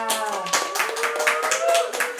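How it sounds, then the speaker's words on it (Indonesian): Audience clapping at a talk about volunteers, a moderate patter of hands under a sustained voice or music tone, fairly even across the whole stretch. "Tepuk tangan dong buat Teh Adel di sini semuanya."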